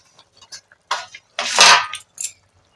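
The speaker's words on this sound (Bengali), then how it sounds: "এবার আমি ঢাকাটা খুলে দেখে নেব" A lid is lifted off a cooking pot of simmering potato and eggplant curry, producing sparse close clinks and clatter, then a louder metallic scrape and rattle followed by a final clink.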